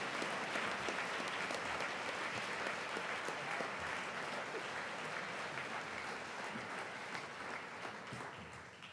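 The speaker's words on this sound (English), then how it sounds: "Please join me in one more round of applause for both of our award winners." Luncheon audience applauding nonprofit award winners, with a long, dense wash of many hands clapping that holds steady, fairly faint and distant, and thins slightly toward the end.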